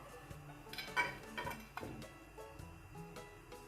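A metal teaspoon scooping homemade healthy chocolate spread, giving a few light, close clinks and scrapes against a jar or bowl, quiet and spaced irregularly over a few seconds.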